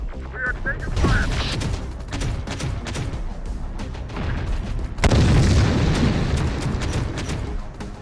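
Heavy gunfire and booming explosions from a firefight in The Thaumaturge, with a dense barrage that swells sharply partway through, under faint game voices.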